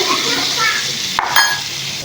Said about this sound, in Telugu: వీటిని చూసారా ఎంత బాగా కాలుతున్నాయో